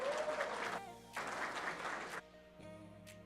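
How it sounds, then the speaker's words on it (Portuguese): An audience at a consumer-satisfaction award ceremony applauds a winning cooperative in two short bursts of clapping, separated and followed by quieter moments with a lingering tone, fairly faint and distant. "Mais uma salva de palmas à Cooperaliança"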